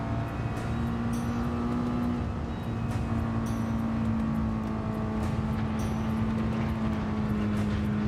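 Super Miata race car engine in Gran Turismo 7, a steady, droning in-game engine note held at near-constant revs throughout, loud and continuous with no speech over it.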